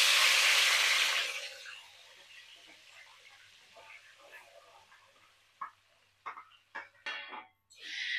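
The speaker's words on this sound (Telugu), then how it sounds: "ఇప్పుడు సేమ్ ఆయిల్లో మనం కట్ చేసి పెట్టుకున్న టమాటాలు వేసుకుందాం." Cut tomatoes dropped into hot oil in a pan while making tomato garlic chutney, giving a loud burst of sizzling that fades within a second or two, followed by quieter frying and a few sharp clinks of utensils.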